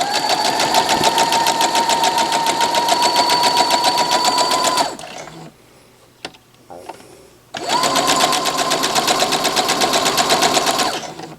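A sewing machine stitches a Mayflower quilt block in two loud, steady runs of rapid needle chatter separated by a short pause with small handling clicks.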